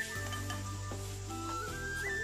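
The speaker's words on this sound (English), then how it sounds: "Finally, add the eggplant and start stir frying." Eggplant strips and pork stir-fry in a pan with ginger, garlic and pickled pepper, giving a steady, faint sizzle with light stirring scrapes and no talk.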